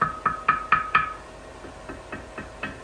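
A thin aluminum Sea-Doo tube-and-fin intercooler is knocked by hand, giving a run of about ten light, hollow, ringing taps in an uneven rhythm, close and alone, the later ones softer.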